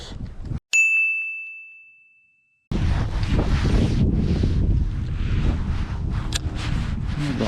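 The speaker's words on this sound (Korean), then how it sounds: "바람 너무 많이 부네" Strong wind roars steadily across the microphone while bass fishing at Suryongji reservoir in spring, following a single bright ding and a brief lull; the gusty broadband rush continues loud and unbroken.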